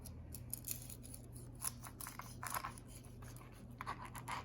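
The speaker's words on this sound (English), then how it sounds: "we're gonna cut into it and see how it looks on the inside" A knife saws through the crusty skin of a roasted boneless pork shoulder, producing faint, close crackling scrapes and crunches in short irregular strokes over a low background hum.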